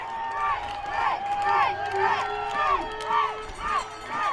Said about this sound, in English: Crowd really getting into it here.